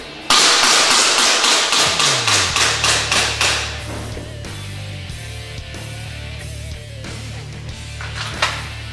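Gunfire during indoor shoot house training, a rapid string of about a dozen sharp, loud reports close by in an enclosed room, followed by a lingering low ringing hum and quieter aftermath.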